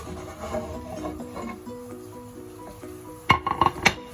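A pan and plate handled while flipping an omelette, a low kitchen bed of faint sizzle followed by a quick cluster of sharp clinks and knocks near the end, close and unvoiced.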